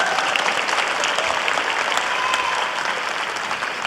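An audience at a formal board meeting gives steady, close applause for honored students, dense clapping that fades slightly toward the end.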